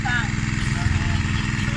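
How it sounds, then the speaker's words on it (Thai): A small engine labors steadily and loudly beside a pond being dug out for fishing and eel catching, its low, throbbing drone continuous throughout. "เครื่องยนต์เล็กทำงานหนักมากครับวันนี้"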